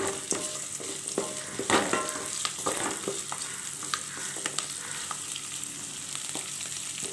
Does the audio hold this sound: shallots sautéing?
yes